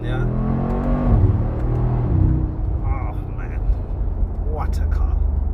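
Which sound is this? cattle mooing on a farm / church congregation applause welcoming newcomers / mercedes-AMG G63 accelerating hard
mercedes-AMG G63 accelerating hard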